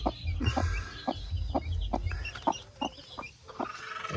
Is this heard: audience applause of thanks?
no